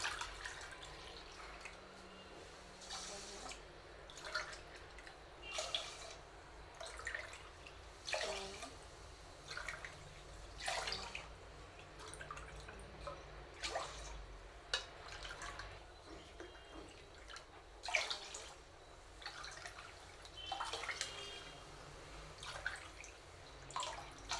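Water poured into a cooking pot for pepper pongal, heard as repeated splashy bursts of pouring and dripping, close and steady, with no voices.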